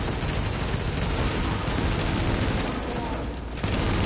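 Gunfire in the video game Tom Clancy's The Division crackles as a dense, continuous burst of rapid shots, loud and close, with a brief dip near the end before the firing resumes.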